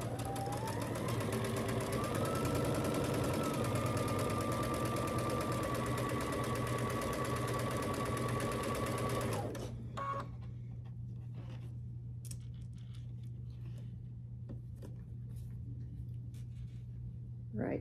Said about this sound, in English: I'm just going to keep going until I get all 4 of these sewn together